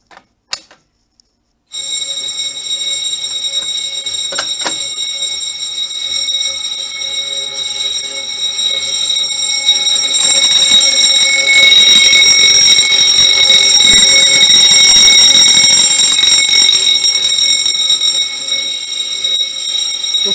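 A fire alarm sounds steadily after a BG-12 pull station is pulled, with a loud continuous tonal ring and buzz that grows stronger partway through and carries on without any talking.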